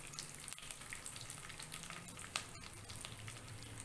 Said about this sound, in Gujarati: આપણું લવિંગ સરસ ફૂટી જાય